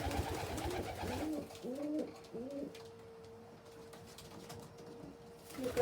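White pigeons building a nest coo softly nearby, giving a few short rolling calls in quick succession before a quieter, steady stretch with faint background noise.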